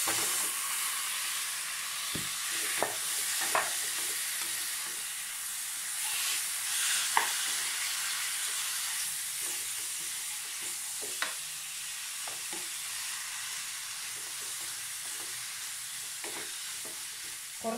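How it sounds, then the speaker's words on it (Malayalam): Chicken pieces stir-fry in masala over a high flame, a constant hissing sizzle running throughout while occasional spoon scrapes and taps sound against the pan. "നമുക്ക് ഇനി ഇതിലേക്ക് ചിക്കൻ പീസസ് ഇട്ട് കൊടുക്കാം."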